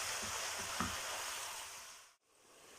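Street-style Egyptian sausage being stir-fried in a pan, a soft steady sizzle with a couple of faint stirring knocks that fades out briefly near the end.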